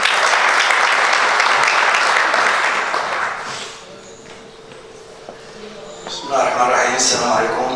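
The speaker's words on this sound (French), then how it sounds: "Applaudissez avec moi, s'il vous plaît, mesdames et messieurs" An audience at a scientific conference on finance and modern technology in Fez breaks into loud, dense applause that tapers off after a few seconds, followed by quieter room noise and brief speech.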